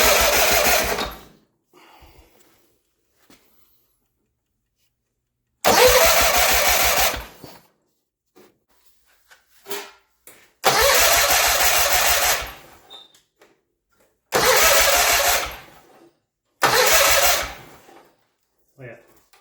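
An old tractor engine in a smoky garage cranks in five separate bursts of loud, rough churning and sputtering, each lasting a second or two, with short quiet gaps between them. It never settles into a steady run.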